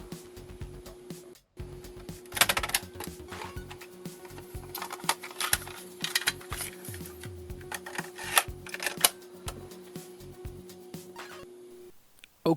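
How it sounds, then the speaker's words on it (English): A cassette tape is handled and pushed into a ZX Spectrum tape drive, giving scattered plastic clicks, clacks and rubbing noises of varying loudness over a faint steady hum, with a sharp snap at the very end. "I'll get one of these into a tape drive."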